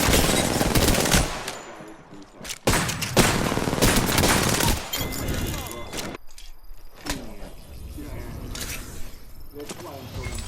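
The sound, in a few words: gunfire in a video game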